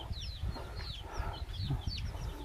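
Several chickens cluck and chatter in the background over a low, rumbling outdoor noise, their calls scattered and overlapping.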